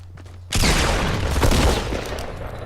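Shotgun fire in the video game Fortnite: a sudden loud blast bursts in after a quiet half-second, then sustained dense gunfire and booming rumble continue for about two seconds.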